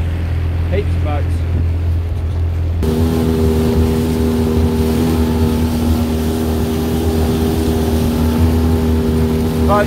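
Motorboats run on the water near a wharf in Mapua, a loud steady low engine drone joined by a second stronger motor whose tonal whine kicks in after a few seconds and holds throughout.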